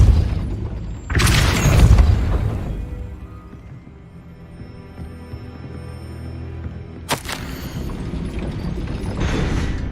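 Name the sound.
gate mechanism raising in Hogwarts Legacy video game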